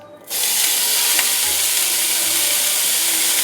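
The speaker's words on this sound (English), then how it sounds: "in medium-high heat, I'm sauteing the vegetables." Vegetables sauté in a pan over medium-high heat, a steady close sizzle and hiss that jumps in after a brief quiet start and carries on evenly, with faint scraping as they are stirred.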